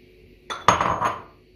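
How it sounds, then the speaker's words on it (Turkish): Sugar pours into a metal pot to start syrup for güllaç, a brief clinking, rattling rush lasting under a second, close and alone. "İlk olarak şekerimi ilave ediyorum."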